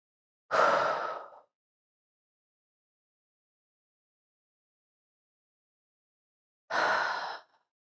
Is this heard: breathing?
yes